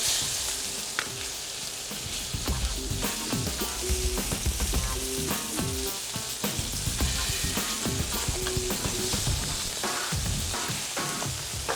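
Steady, loud sizzling and crackling of floured chicken pieces browning in an oily pan on high heat, with occasional stirring and scraping throughout.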